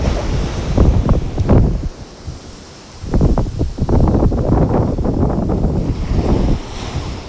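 Sea waves break and wash onto an Italian beach in loud, surging rushes, with heavy wind buffeting the microphone between the swells; no voices.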